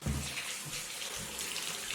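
Water running steadily from an open household tap during a whole-house booster pump installation, a constant hissing gush with no talk.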